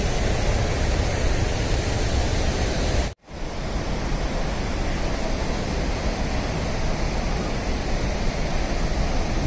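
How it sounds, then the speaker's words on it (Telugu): Ganga river rushing along a narrow mountain path on the Manimahesh Kailas pilgrimage route, a loud, steady broadband roar of fast water that fills the whole clip, with only a momentary dropout partway through. "చిన్న ఇరుకు దారిలో గంగ పారుతుంది"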